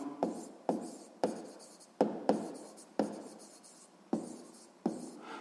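A pen writes out a math solution on paper in a quiet room, a run of distinct scratchy strokes, each starting with a sharp tap and fading, about nine in a row close by.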